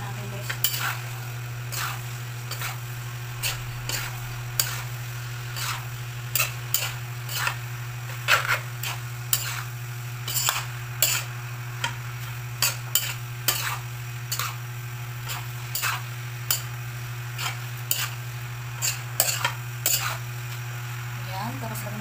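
Bihon noodles are tossed with celery and vegetables in a pan for pancit bihon guisado, with regular clacking scrapes of a utensil over a low steady hum while a person talks throughout.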